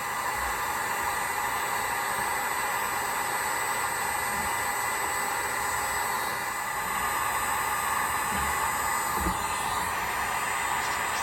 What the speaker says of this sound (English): So we just put the heat gun on high and start heating it up.